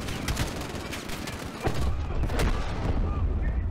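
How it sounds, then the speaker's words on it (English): Dense bursts of automatic gunfire and heavy explosive booms from the Modern Warfare campaign, loud and continuous, with a deeper blast rumbling partway through. "That was a pretty good explosion there."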